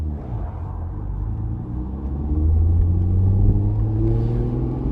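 A 1969 Ferrari 365 GTC engine hums low and close while driving, then swells into a firmer rev partway through before easing slightly, with no voices.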